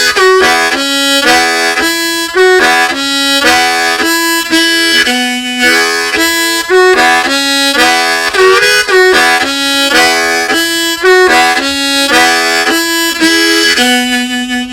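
Harmonica playing an old-time tune in chords, the rhythmic stabs stepping through changing chord shapes at steady tempo, close and loud throughout with no talking.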